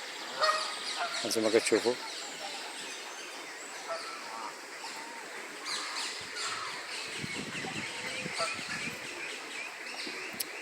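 Geese honk and other birds squawk and chirp in a bird park in Düsseldorf, a busy outdoor chorus of near and distant calls, loudest at the start, while someone speaks briefly.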